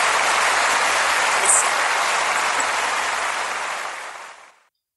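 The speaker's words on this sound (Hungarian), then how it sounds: "Itt egy ováció, vagy egy taps effekt azért" An applause sound effect of an ovation, a dense even roar of many clapping hands held at full strength, then fading smoothly to silence.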